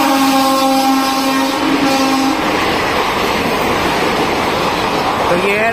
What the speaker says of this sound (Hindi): तो ये है राज्य रानी भाई साहब। बड़ा गजब ओवरटेक मार के गई है भाई साहब